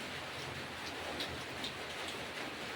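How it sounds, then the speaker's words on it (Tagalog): Steady rain falls on a rainy midday, a continuous even hiss with a few louder spatters, fairly close and with no one speaking. "No, narinig mo ba may ulan?"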